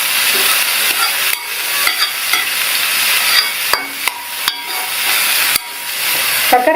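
Ash gourd poriyal with chana dal hisses in a pan while a spatula stirs it, a bright steady sizzle broken by repeated close scraping strokes and taps, no voices.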